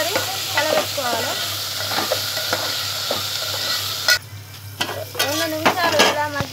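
A potato and tomato curry is stirred in a pot over a village cooking fire: repeated spoon scrapes and clinks over a soft simmering sizzle, with a low hum beneath and brief speech.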